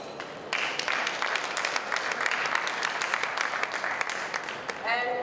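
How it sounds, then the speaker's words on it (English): An audience at a vegetarian congress breaks into applause for a lecturer, a sustained round of many hands clapping after a quiet start, fading as a voice begins at the end. "A round of applause for Wafa"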